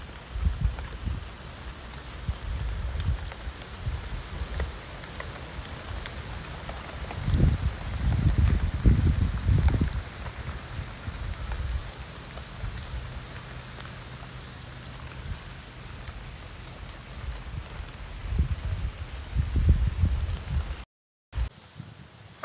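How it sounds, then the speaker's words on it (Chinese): Rain falls steadily outdoors, making a continuous broadband hiss with soft low thuds that swell and fade, heard alone with no voices. "下雨了"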